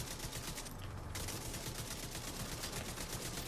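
Rapid automatic gunfire in The Division 2 rattles on continuously in a dense, loud fusillade of evenly spaced shots with no pauses, and no one speaks.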